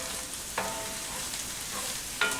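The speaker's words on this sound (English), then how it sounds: "I'm just going to saute this in the bacon for a few minutes until the bacon is done and crisp" Brussels sprouts sauté in bacon fat in a pan, a soft continuous sizzle broken by a few sharp clicks of stirring, close and fairly quiet.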